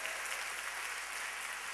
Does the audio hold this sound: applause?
yes